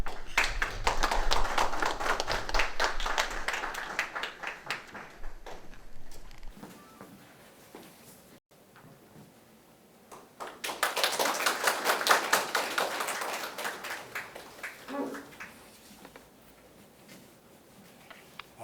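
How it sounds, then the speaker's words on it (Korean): At an award ceremony, a modest audience gives two rounds of clapping separated by a brief lull, the second burst swelling and then fading, fairly soft in a quiet hall. "여러분 큰 박수 부탁드리겠습니다."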